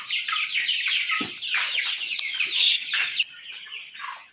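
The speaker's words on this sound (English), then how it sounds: "a few broiler birds." Broiler chickens on a poultry farm clucking and chirping continuously, a dense, close flock chorus with overlapping calls throughout.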